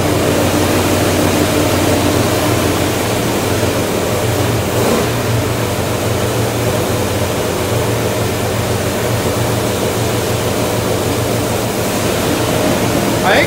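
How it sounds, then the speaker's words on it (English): A 427 engine roaring on a dyno at high revs, a loud continuous drone held at the rev limiter throughout, close and dominating, with faint voices underneath. "I think it definitely hit the rev limiter."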